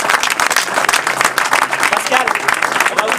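A post-match audience applauds to welcome a player, loud, close clapping from many people with crisp individual claps standing out, and a voice faintly mixed in underneath.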